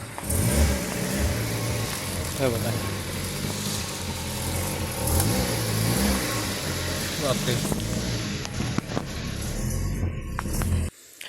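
Car engine running steadily while being parked and reversed into a tight spot with mirrors folded, revving slightly as it fails to back up, with someone talking over it throughout.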